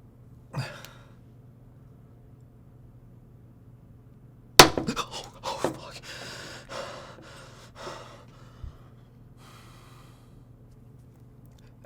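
Heat spreader prying loose from an Intel 7940X CPU during delidding, with a sudden sharp crack and a brief flurry of scraping and crackling after it, over quiet background hum.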